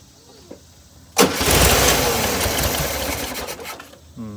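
An air-cooled Volkswagen engine fitted with a freshly cleaned Solex 34 PICT carburetor cranks briefly and fires, then settles into a loud, steady, slightly uneven idle close by after a quiet moment.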